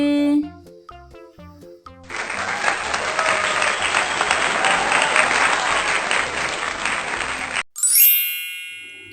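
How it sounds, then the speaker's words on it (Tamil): Loud, dense applause rewards children who answered correctly, a steady burst of clapping lasting about five seconds, framed by bright chiming dings before and after. "சரியா சொன்ன குழந்தைகளுக்கு ஒரு கைத்தட்டு"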